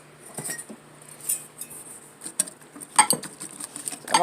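Lemon cake batter whisked in a bowl, a light metallic clinking and patter of the whisk against the sides, uneven bursts growing busier toward the end, close by.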